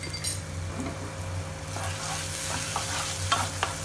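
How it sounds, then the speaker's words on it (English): Prawn masala gravy simmers and bubbles in a pan while being stirred, giving a soft continuous sizzle with a few light scraping strokes, close and fairly quiet. "Our gravy is simmering for 5 to 6 minutes now"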